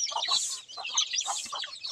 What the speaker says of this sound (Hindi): तो छोटा छोटा मेरा मुर्गी लोग है, इसको मैं बुला के चारा देता हूँ डेली ऐसे ही।